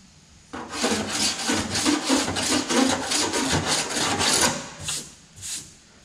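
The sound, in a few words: file rubbing over car door body panel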